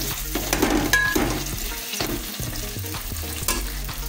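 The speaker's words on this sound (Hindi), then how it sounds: "इस प्याज में मटर डाल देंगे और मटर को अच्छे तरीके से फ्राई करेंगे।" Peas frying with onions in a pan for mutton biryani, a close sizzle broken by repeated spoon scrapes and stirring clatter in an irregular rhythm.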